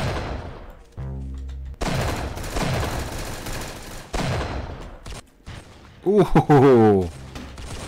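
A heavy sniper rifle fires in the Roblox game Arsenal, with several loud, separate blasts spaced a second or two apart. A voice exclaims briefly between the shots.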